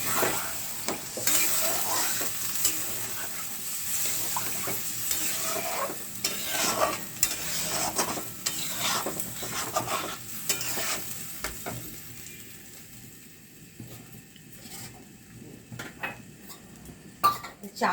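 Spices sizzle loudly in a pan after water is added, with repeated scraping stirs and utensil knocks, the hiss fading and thinning toward the end.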